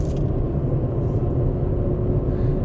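A big truck passes on a rough road, a steady loud low rumble heard from inside a vehicle.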